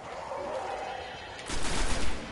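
Gunfire in the video game Destiny as enemies are shot, a hushed stretch of ambience giving way to a dense burst of rapid, loud shots toward the end.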